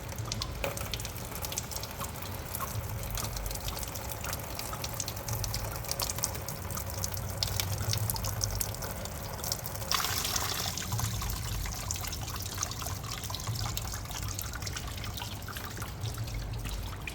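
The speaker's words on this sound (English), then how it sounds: "we're going to undo this hose here and drain all the coolant into that pan" Coolant pours and trickles steadily out of an undone hose on a 1970s International yard crane into a drain pan, a continuous close splashing stream that runs for the whole stretch without letting up.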